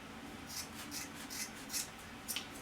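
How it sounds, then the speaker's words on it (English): Scissors snip through looped yarn for a pom-pom, making several soft, crisp cuts spaced about every half second, close up and fairly quiet with no voice. "you're going to take these little loops and you're going to cut them and cut it. So stick your scissors in"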